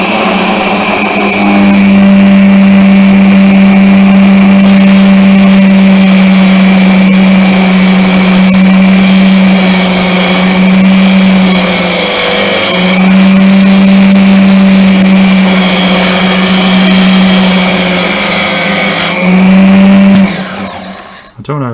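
A mini wood lathe with a new motor runs continuously in a loud, steady whine with a strong low hum, briefly dipping as the tool cuts back a high spot, then spinning down abruptly at the end.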